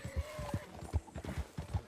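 Horse hooves clip-clop at a steady trotting rhythm in the video game Red Dead Redemption while hunting near Tumbleweed, loud and close, with a faint whinny-like tone in the background.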